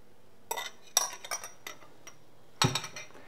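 Metal beaters clinking and clattering against a bowl as hand mixer attachments are swapped for dough hooks while baking a cup cake, a few sharp clinks in two bursts, close and alone in a quiet kitchen.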